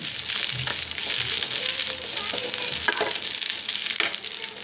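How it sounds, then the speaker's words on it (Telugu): Steady, dense sizzling of gongura leaves frying in hot oil, with occasional stirring scrapes and small crackles, close and continuous throughout. "ఇది మనం ఇప్పుడు నూనెలోని బాగా ఫ్రై చేసేసుకుందాం"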